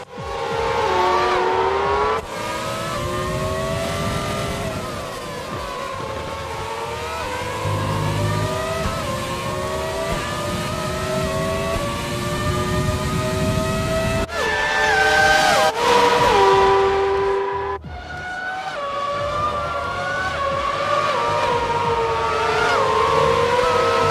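Formula 1 cars scream past in the F1 2020 PC game, engines whining up and down through gear changes, layered and loud over several laps of continuous roar.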